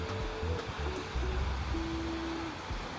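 Sea waves wash along the Jeju coast in a steady, broad roar of surf that stays continuous and fairly close, with no talking over it.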